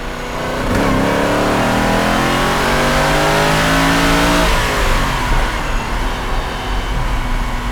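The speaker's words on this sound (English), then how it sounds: "there is something lovely about a burbling V8, and this car has got it" A Lamborghini Silhouette P300 with a V8 engine revs hard and loud up close, its burbling note climbing steeply in pitch, holding briefly, then dropping back as the throttle is released, followed by a rough idle.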